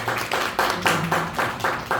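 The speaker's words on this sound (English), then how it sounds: "Big round of applause for Dharam, please." Audience applause at a scholars' summit panel discussion after a speech, a short burst of clapping in several pulsing swells, moderately loud and close, with no talk over it.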